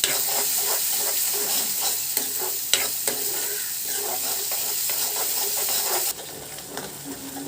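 Onions frying on a high gas flame, loud continuous close sizzle and hiss with occasional stirring scrapes, dropping slightly quieter near the end, no talking.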